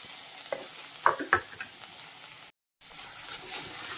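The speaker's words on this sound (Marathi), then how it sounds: "हे पूर्ण सारण आपल्याला परतून घ्यायचं आहे" Tomato and onion stir-fried without oil in an iron kadhai, with soft sizzling and a few sharp scraping stirs of the spoon early on, then a brief silent gap and a continuous low sizzle.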